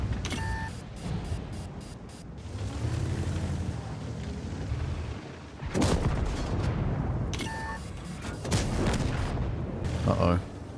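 Tank cannon fire in World of Tanks arrives as heavy booming shots, several spaced apart, each a sharp broadband blast over a rumbling battlefield bed.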